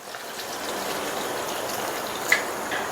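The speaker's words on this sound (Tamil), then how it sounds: "இது கூட 1/4 கப் அளவுக்கு தண்ணி சேர்க்கிறேன்." Water pours steadily into a pan of garlic curry, a soft continuous splashing rush that holds even for about three seconds, with one small clink partway through.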